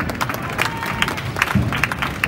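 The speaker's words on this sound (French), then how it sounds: "on peut les applaudir très fort" An audience applauds at a badminton tournament awards moment in Tinqueux, with dense, steady clapping and some crowd noise running for a couple of seconds, fairly loud and close.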